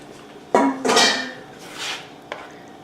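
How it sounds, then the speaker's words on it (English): Portobello mushrooms being mixed into red chili in a pot for vegan tamales, with a few clanks of a spoon against the pot and a soft scraping stir between them. "I'm adding the portobello mushrooms into the red chili, and I'm going to mix it together"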